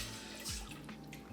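Purified bottled water pours steadily into a cooking pot in a kitchen, a continuous close splashing and gurgling stream lasting about a second and a half with no talk.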